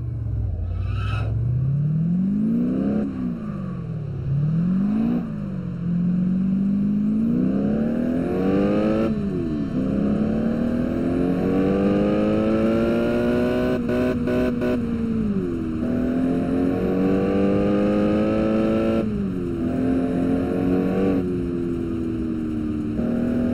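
Car engine in the Test Drive Unlimited Platinum racing game, heard from cockpit view as it revs and climbs through gears again and again, each shift dropping the pitch before it rises. The steady drone holds loud and close throughout.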